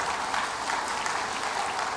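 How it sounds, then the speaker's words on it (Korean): Church congregation applauding during a Sunday sermon, a steady, dense wash of many hands clapping at once, fairly close and unbroken for the whole stretch with no voices on top. "이 타임에 이렇게 박수가 나와야 돼."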